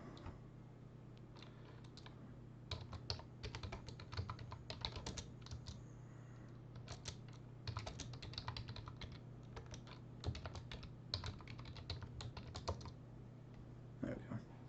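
Fast, uneven typing on a computer keyboard, close and fairly quiet, with clustered keystroke bursts and short pauses over a steady low hum.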